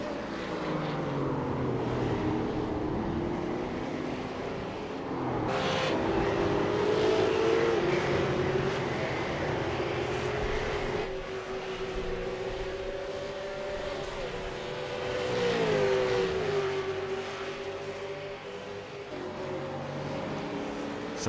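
Simulated V8 race cars at Interlagos sweeping past the start-finish line, a continuous engine drone that rises and falls as cars pass, with commentary running over it.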